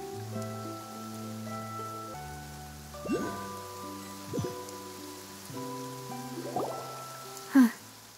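A steady hiss of rain falls in Genshin Impact during a rainy quest in Fontaine, heard beneath sustained, layered musical tones and occasional soft swells.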